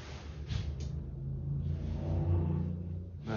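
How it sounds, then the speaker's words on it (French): A motorcycle engine drones at a distance, a steady low rumble that swells slightly and fades, heard alone without talk. "Là c'est une moto aussi."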